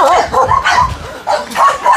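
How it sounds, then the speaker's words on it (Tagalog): Several dogs barking in short, yappy bursts at a rural Philippine yard with mango trees, close and moderately loud, with repeated barks across the whole moment. "Daming aso."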